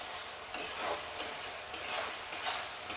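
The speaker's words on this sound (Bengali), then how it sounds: "আরও হাফ চামচ দিয়ে দিলাম দিয়ে নাড়িয়ে নিচ্ছি এইভাবে" Potatoes with salt are stirred in a frying pan: bright sizzling swells and fades as a utensil scrapes through in a few quick, uneven strokes, close up and without speech.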